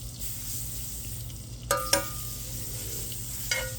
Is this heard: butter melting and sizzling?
yes